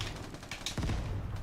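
Rapid bursts of gunfire and blasts from the survival shooter game Vigor, a dense string of shots and booms rolling on steadily and fairly loud.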